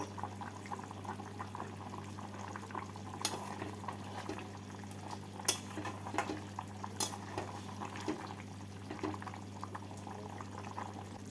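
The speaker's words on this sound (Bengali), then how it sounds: "দিয়ে দিচ্ছি কাঁচা লঙ্কা এবার আরও পাঁচ মিনিট ফুটিয়ে নেব" Kashmiri alur dum with green chillies simmering in a pot, a steady low bubbling bed with occasional sharp clinks and scrapes of a utensil against the pot, no talking.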